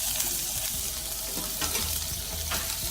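Butter sizzling in a pan on medium heat, a steady close frying hiss with faint stirring scrapes underneath, continuous and fairly loud with no talking.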